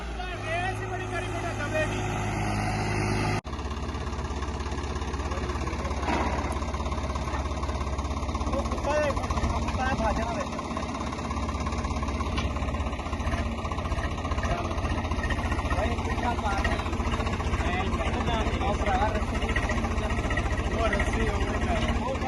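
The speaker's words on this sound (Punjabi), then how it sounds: "ਦੱਬਦਾ ਹੀ ਨਹੀਂ ਟਰੈਕਟਰ ਦਾ" An 855 tractor engine drones steadily and loudly while pulling a harrow fitted with 16 new discs. The engine runs continuously throughout, with voices talking over it.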